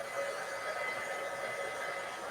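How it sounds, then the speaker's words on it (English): A handheld heat drying tool blows steadily over a freshly chalk-painted card, producing a close, continuous airy whoosh and hiss with no breaks. "I just forgot to plug my dry tool here"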